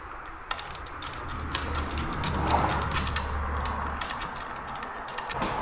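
A screw being fitted into the limit switch of a 2-post car lift, heard as a run of close mechanical clicks, ticks and ratcheting rattles, with no talking.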